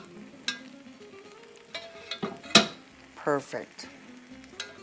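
Beans simmer in a pan with their juice, giving soft intermittent sizzles and scraping stirs, with a brief spoken word partway through.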